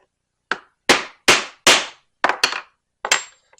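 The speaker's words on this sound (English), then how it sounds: "Set my first rivet" A rivet being set into a leather backpack strap with about seven sharp hammer strikes: single blows, then paired taps, close and crisp, each ending quickly with no talking.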